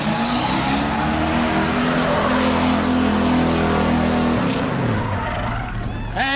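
A loud Bomber-class race car engine roars steadily through a burnout with screeching tires at a New Smyrna race, then the revving drops off near the end, close and continuous.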